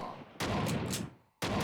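Gunfire hitting the player in the shooter Gun Godz: two loud, sudden bursts of rapid shots, the first lasting about a second, the second starting after a brief near-silent gap.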